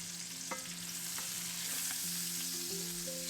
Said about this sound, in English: Just fry off your chorizo until it's brown